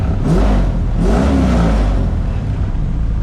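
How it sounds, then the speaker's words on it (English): A Mazda RX-7 FC drift car's engine revs loud and close, rising in two surges over a steady rough drone. "We got a working drift car."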